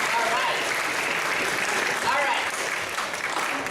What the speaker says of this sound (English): give us a big round of applause